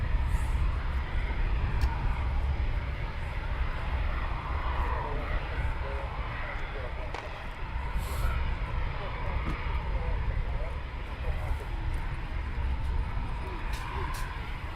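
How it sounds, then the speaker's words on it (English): Military aircraft taxi at RAF Coningsby with a steady, loud engine roar that holds for the whole stretch and swells slightly midway, while people talk faintly over it. "There you go, guys, some more taxiing towards us"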